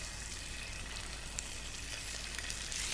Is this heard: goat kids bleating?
no